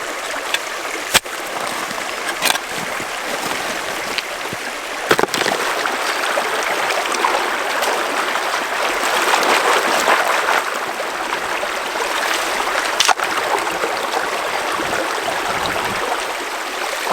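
Water in Starvation Creek flows steadily with a constant rushing wash, broken by a few sharp knocks and splashes from nearby gold-panning activity, with no speech.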